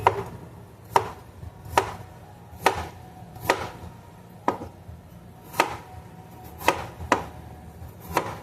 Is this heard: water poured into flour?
no